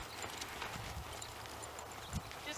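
Hooves of a horse circling an arena while being schooled for barrel racing give a few dull, soft thuds under steady wind-like noise, fairly distant.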